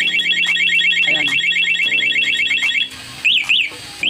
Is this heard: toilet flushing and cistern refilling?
no